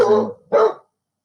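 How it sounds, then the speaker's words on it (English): Two loud, close dog barks in quick succession indoors, each short and sharp, followed by silence. "my dog's barking in the background"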